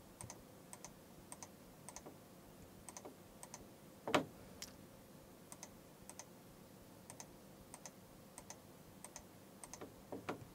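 Mouse clicks while working in ProTools 2019.8 software, a steady series of soft, quiet ticks repeating at irregular short intervals over faint room noise, with one slightly louder click near the middle.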